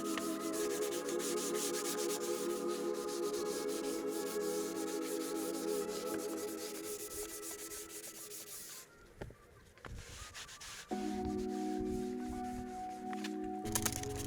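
A scrubber dubber with all-purpose cleaner scrubs a spot on the front passenger seat of an Audi TT, giving a steady close rubbing and buzzing scrub that breaks off briefly and then resumes.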